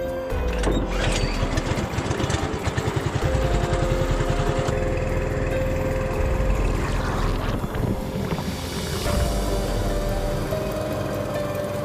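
A motorboat carries visitors across Rawa Bento swamp in Kerinci, Jambi. Its engine drones loud and steady at close range with a rapid rhythmic chug, while wind buffets the microphone throughout.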